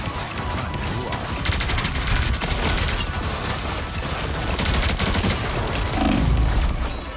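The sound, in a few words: heavy weapons gunfire in video game Marvel Rivals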